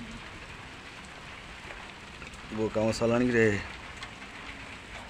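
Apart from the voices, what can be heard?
rain falling at a village weekly market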